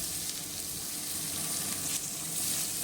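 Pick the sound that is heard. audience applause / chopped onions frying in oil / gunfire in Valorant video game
chopped onions frying in oil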